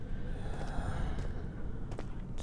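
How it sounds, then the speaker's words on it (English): Low, hushed ambient breathing drifts through the dark setting of Amnesia, a faint airy sighing over a murky background hum, joined near the end by a couple of soft knocks. "The ambient breathing is driving me crazy."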